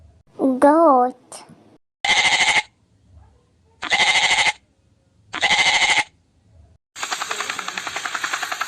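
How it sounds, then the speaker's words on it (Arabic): A goat bleats three times in loud, evenly spaced, wavering bursts after a brief voiced call, then a rapid pulsing rasp follows. "goat."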